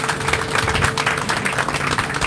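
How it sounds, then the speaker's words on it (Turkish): Clapping from a tour group on a boat trip at Hasankeyf, a short burst of fairly close, uneven applause from a small group of people. "Beğenenler alkışlasın."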